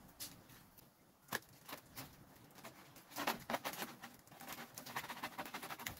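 Steady rain patters over a soft hiss, with irregular louder drops and taps striking a surface nearby, growing busier toward the end.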